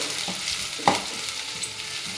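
Moong dal roasting dry in a hot pan while being stirred, a soft continuous sizzle broken by a sharp scrape or knock of the spoon near the start, close and unaccompanied by speech.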